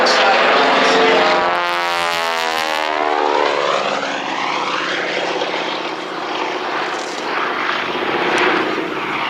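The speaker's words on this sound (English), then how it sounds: "airplane as she comes around the backside once again." A Boeing-Stearman PT-17 Kaydet propeller biplane drones loudly overhead, its engine pitch sweeping as it passes and banks away, a continuous close roar with no talking.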